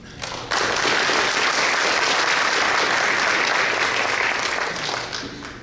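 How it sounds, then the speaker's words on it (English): Audience at a Fresno Hmong community event welcomes candidates with sustained, dense applause that swells quickly after a brief pause and holds steady for several seconds. "Another warm applause to the late German House and Ching Wei."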